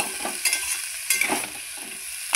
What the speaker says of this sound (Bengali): ভালো করে আমি নেড়ে চেড়ে নিচ্ছি।